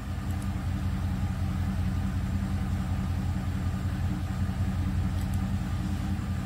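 A 2013 GM truck idles in neutral with a steady low rumble from the engine, constant and close by, while the 4x4 engages without any distinct clunk standing out.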